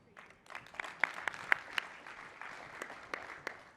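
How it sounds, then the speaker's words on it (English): Sparse, thin clapping from a conference audience at a partner summit pitch, a handful of separate claps that swell slightly then trail off. "That wasn't much applause."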